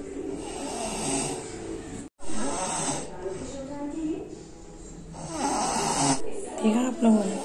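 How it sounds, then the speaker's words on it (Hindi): Someone snores loudly in long, rasping breaths, a few rough cycles with a short pause between them. "बहुत जोर जोर से खर्राटे दे रही है"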